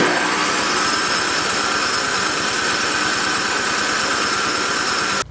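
A snow blower engine cranks on its electric starter with its choke closed, a rapid, even, rhythmic churning that repeats steadily for about five seconds without catching, then cuts off.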